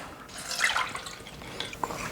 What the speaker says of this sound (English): I've soaked some seeds in water overnight and now I'm going to drain it.